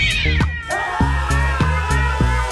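A cat meows once, loud and close, then steady rhythmic beats continue beneath, as though the meow sits over a looping musical backing.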